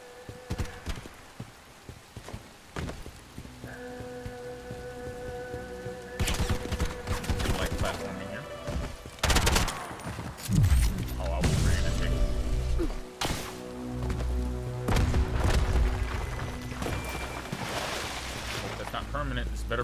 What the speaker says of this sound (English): Oh my god, it really does shoot missiles.